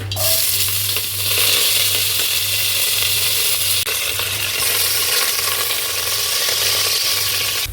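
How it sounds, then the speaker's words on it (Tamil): Onions fry in hot oil with popped mustard seeds for a mutton kuzhambu, a loud, dense, continuous sizzle close up with faint stirring beneath it. "வெங்காயம் வந்துட்டு நல்லா வதங்கிடுச்சு."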